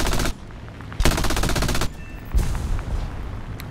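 Machine guns of an I-15 plane in the War Thunder video game fire in loud, rapid bursts, three separate volleys of dense rattling, each stopping abruptly, over a continuous engine drone.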